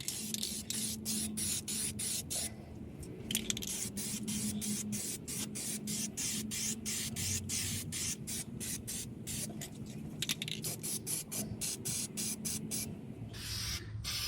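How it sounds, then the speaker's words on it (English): Repeated close hissing bursts from a spray paint can coating the exhaust flex pipe of a 2007 Freightliner Columbia truck, pulsing in quick irregular spurts almost continuously, with no talking. "What I'm doing is I'm spray painting the flex pipe."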